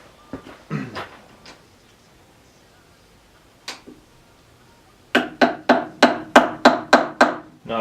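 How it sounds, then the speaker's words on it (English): Knocking on a paint-caked part while tearing down a Standard-Modern 10x20 lathe: a few scattered hard raps and one lone knock, then a fast run of about ten sharp, evenly spaced metallic blows, loud and close. "Knock it in to break the paint."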